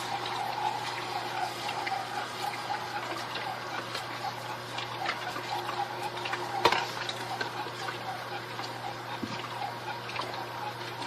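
A Tribest Slowstar vertical slow juicer presses blueberries, giving a steady low motor hum under wet squishing, crackling and dribbling sounds, with one sharper knock partway through.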